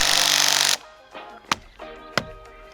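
Lag screws, 4.5 inches long, driven into a log for a wooden ultra-skinny trail feature: a loud sustained power-tool whir that stops abruptly, followed by a few sharp knocks and creaks.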